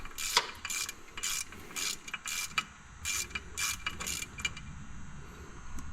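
A wrench ratcheting out the pivot bolt on a 2021 Polaris Pro XP clutch during a gear reduction kit install, with a series of quick rhythmic clicking bursts separated by short pauses, close and clear.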